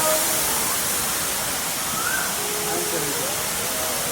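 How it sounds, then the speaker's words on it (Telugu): Kailasakona waterfall, plunging from a height beside a forest and a Shiva temple, fills the air with a steady, close, full-band roar of rushing water, with faint tonal sounds drifting over it. "కైలాస కోన వాటర్ ఫాల్స్ ఇదే చూడండి దృశ్యం ఎంత మనోహరంగా ఉందో ఎత్తైన ప్రదేశం నుండి కిందకి జారుతుంది"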